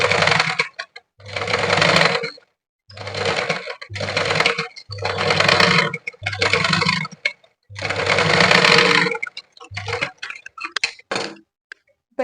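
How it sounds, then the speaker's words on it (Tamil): A sewing machine runs a blouse's lining-cloth edge seam in repeated short bursts of fast, close whirring stitching, separated by brief silent pauses, with roughly eight runs of varying length. "அதே மாதிரி எஜ்ஜில தையல் போட்டுக்கோங்க"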